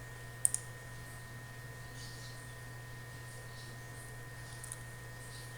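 A computer mouse gives a quick double click near the start and another faint click near the end, over a quiet electrical hum.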